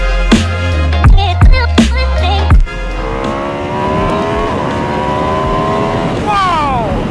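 A brand new 2019 Aprilia RSV4 1100 Factory motorcycle blips its engine loudly several times in sharp revs, then pulls away with a sustained, rising high-rpm engine howl that climbs through the gears.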